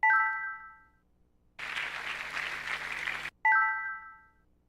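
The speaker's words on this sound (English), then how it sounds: "I think she deserves a better round of applause." A hall audience at Maseno School claps in a steady burst of just under two seconds, set between two bright chime tones that ring out alone before and after.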